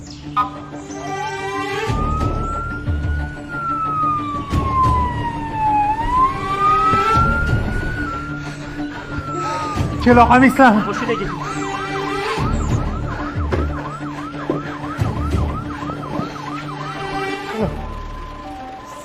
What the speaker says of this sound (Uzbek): Tez yordamga yo'l beramiz, yo'l ochamiz.